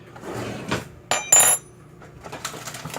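A metal measuring tablespoon is pulled out while baking an apple pie, giving a few light metallic clinks and a short rattle mid-clip, with quiet pauses between.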